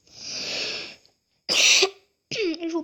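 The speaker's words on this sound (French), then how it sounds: "Attendez, je vais tousser vite fait." A man coughs several times in short separate bursts, close to the microphone, with silent gaps between them.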